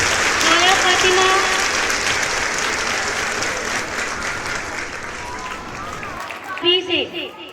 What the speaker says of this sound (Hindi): जोरदार तालियां बजाइए इन बच्चों के लिए।